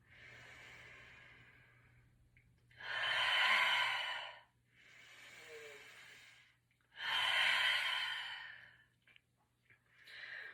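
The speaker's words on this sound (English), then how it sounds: "exhaling out through the mouth" Slow, deep exhalations through the mouth during a yoga breathing routine, two loud breathy outbreaths alternating with softer inhales in a steady calm rhythm, close and alone without talk.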